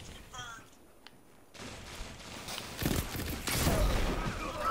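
Rocket fire and explosions in a first-person shooter video game: muffled blasts and rumbling build in the second half, with a burst of crackling bangs, under someone talking.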